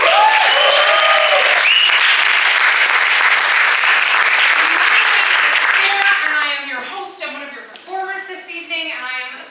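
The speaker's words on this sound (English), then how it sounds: "Give yourselves a round of applause for making it here tonight." Loud crowd applause with cheering at a live evening showcase event fills the space, then fades as a voice begins speaking over the last scattered claps.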